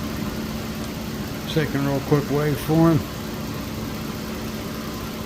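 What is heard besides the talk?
car engine idling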